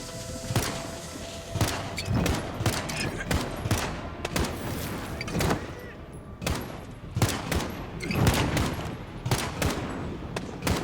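Rapid bursts of gunfire in Call of Duty: Modern Warfare (2019) on a highway battlefield, loud repeated shots and fusillades with thuds scattered throughout.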